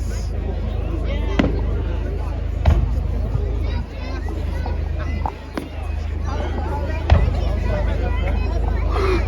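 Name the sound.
fireworks display at Poole Quay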